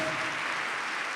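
A conference hall audience claps loudly and continuously, a dense wash of applause filling the brief moment with no speech over it.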